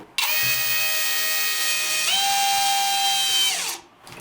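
A Ronix cordless drill driving a self-tapping screw whines loudly and steadily for about three and a half seconds, rising in pitch partway through, then stops sharply when the trigger is released.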